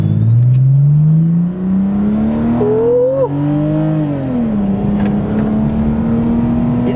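A BMW E46 under way with a loud engine heard from inside the car: a steady droning tone rising as it revs up through the gear, easing briefly around a shift, then holding on, close and dominant with no talking.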